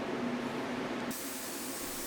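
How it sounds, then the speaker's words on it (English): A spray gun with a 1.8 tip applies Centurion's water-based top coat in Palladian blue to old office furniture. It makes a loud, steady, close hiss that cuts off sharply and gives way to a softer, airier spray partway through. "so we're spraying Centurion's top coat"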